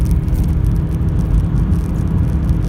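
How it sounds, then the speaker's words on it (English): A 2016 Toyota Yaris Hybrid with a CVT gearbox accelerates hard from 40 to 100 km/h, its engine roaring steadily and loudly, a constant low droning whir with faint rattling, no voices. "If I floor the car, 40, 60, 80,"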